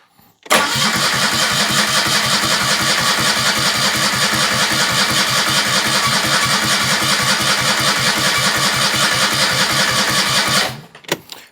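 A Citroën 2CV engine is cranked by the starter in a long, steady, rapid rhythmic churn for about ten seconds without catching, loud and close, then it stops.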